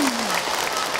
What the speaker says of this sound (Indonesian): tepuk tangan untuk orang Pandeglang